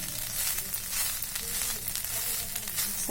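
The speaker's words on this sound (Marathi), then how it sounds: "आता आपण खोबरं परतून घेऊया ओलं खोबरं आहे" Fresh grated coconut sautéing in a pan for fried modak filling, a steady, close, continuous sizzle with faint scraping of stirring, no voices.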